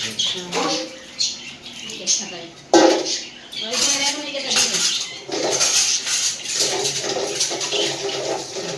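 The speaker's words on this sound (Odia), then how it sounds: "ଏବେ ମମ୍ମି ଏବେ ବାସନ ମଜାମଜି କରୁଛି" Pots, pans and dishes being scrubbed and rinsed by hand in a home kitchen, with intermittent clinks and clatters of utensils and running water, while people talk nearby throughout.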